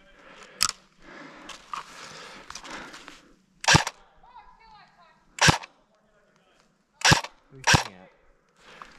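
Airsoft guns fire during a live Trouble in Terrorist Town game, about five sharp, loud shots spaced a second or more apart, with people talking in between the early shots.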